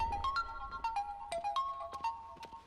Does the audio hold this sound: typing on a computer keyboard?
no